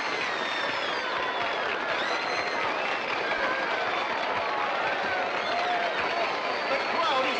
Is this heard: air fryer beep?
no